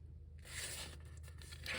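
Paper is folded and creased firmly with a brief, close scraping rustle to form a pocket for a handmade slide tag, quiet and with no voices.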